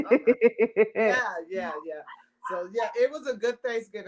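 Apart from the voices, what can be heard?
dog barking in the background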